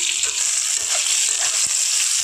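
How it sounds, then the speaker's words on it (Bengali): Eggplant pieces frying over high heat in a wok, a dense, even sizzle filling the scene with a few faint knocks of stirring, close and steady, with no one talking. "হাই হিটে যদি বেগুনগুলো ভেজে নেওয়া যায় তাহলে কিন্তু বেগুনগুলো লাল লাল হয়ে ভাজা হয়ে যাবে"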